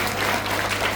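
Audience at a parents' training session clapping for a couple after a quiz, steady dense applause filling the whole moment at moderate volume with no speech.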